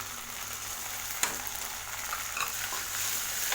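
Chopped tomatoes and onions sauté in a pan for a chow chow sambar, a close, steady sizzle with the scrape and clatter of stirring, including one sharp knock early on.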